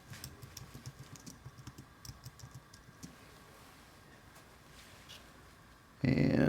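A search typed on a computer keyboard with soft, quick keystrokes in a steady patter, faint and close under low background hum, which stops before a sudden louder burst of noise at the end.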